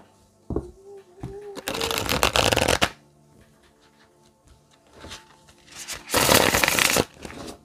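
Illuminati tarot cards being shuffled in two distinct riffling bursts, close and crisp, with quiet handling and a brief voice between them.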